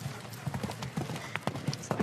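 A show jumping horse in a 1.60 m Grand Prix Hermès competition in France canters with bare front legs, no boots. Its hoofbeats land as a rhythmic series of dull thuds over a steady crowd and arena murmur.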